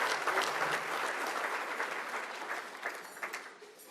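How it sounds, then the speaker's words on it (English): Applause at a law enforcement awards ceremony, a fairly faint but steady patter of many hands clapping that thins slightly toward the end. "Please, round of applause."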